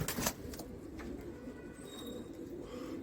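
Tonk breed pigeons in a breeding loft, including a male, give soft, throaty coos that repeat at close range. A brief rustle of wings comes at the start, and no voices are heard.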